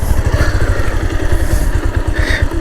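A motorcycle labours up a steep, rain-soaked muddy hill road, its engine close and loud with a steady, pulsing low thrum and occasional clattering thumps throughout.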